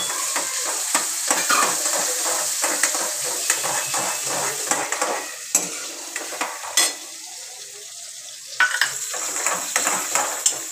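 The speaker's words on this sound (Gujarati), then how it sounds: "ટમેટાને આપણે થોડી વાર સાતરશું." Tomatoes with onions are sautéed in a pan for ragda, with a constant sizzle under repeated spoon-scraping strokes and light clinks of metal on the pan, close and fairly loud, with no talking.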